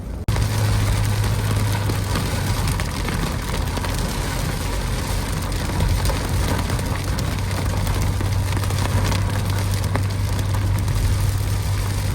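A car pulls away after dropping hikers at an Appalachian Trail trailhead on a damp morning, its engine a steady low hum and tire noise that holds throughout with no talk.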